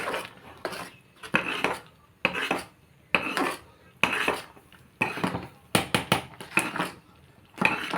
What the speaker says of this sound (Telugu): అంతా బాగా కలిపేసుకుని